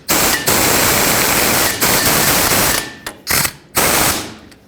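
A ratchet wrench tightens the bolts on a front lower ball joint of a 1996-2002 Toyota 4Runner, making loud, dense, continuous clicking bursts with short pauses between strokes, close up and alone.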